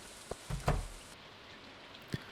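Rain falling in Stardew Valley, a faint steady patter of drops with a few louder soft taps, quiet and without voices.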